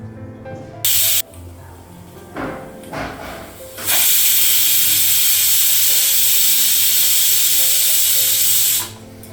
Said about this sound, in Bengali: দুটো সিটি নিয়েছে তো গ্যাসটা বন্ধ করে দেবো